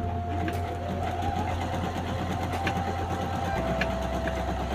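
A Toyo Singer sewing machine runs a zigzag stitch in a steady, fast mechanical whir with rapid rhythmic needle ticking, continuous and close throughout.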